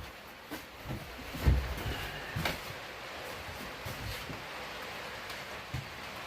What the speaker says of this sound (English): As you can hear, the rain is coming down pretty good on the roof.